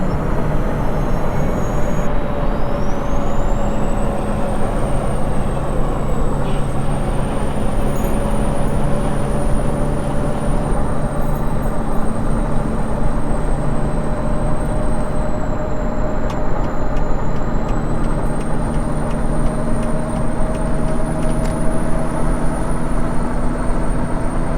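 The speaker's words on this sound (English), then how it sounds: "interior sound, as you can hear, is kind of low compared to what it is on the outside" A Peterbilt 379 dump truck in American Truck Simulator drones from inside the cab, a loud steady low engine hum with a rising and falling whine layered over it throughout.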